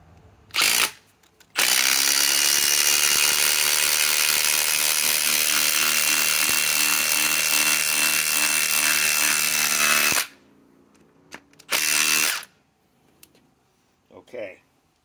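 A Milwaukee M18 Fuel Gen 4 impact driver on a 6 Ah Forge battery hammers a 5 to 6 inch lag screw into a pre-drilled hole in wood. It gives one long, loud, close burst of rapid impacts lasting several seconds, with shorter bursts before and after.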